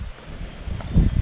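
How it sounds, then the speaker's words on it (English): Strong gusting wind of around 30 mph buffets the microphone with a low rumbling roar that swells louder near the end, steady and close, with no voices. "we've got like 30-mile-an-hour winds and a lot of nasty weather on its way"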